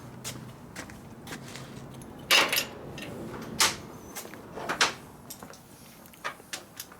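A torque wrench set back into a metal tool box in a motorcycle repair shop: scattered hard clunks and rattles, a few louder knocks among quieter handling noises, close by.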